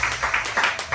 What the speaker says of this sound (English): Please put your hands together for a thunderous round of applause for Mr. Brian Francis.